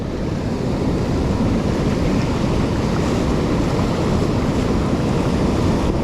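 Heavy surf pounds a California beach in a continuous, loud wash of breaking waves, with wind buffeting the microphone and no voices.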